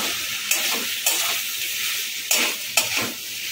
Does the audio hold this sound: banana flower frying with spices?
yes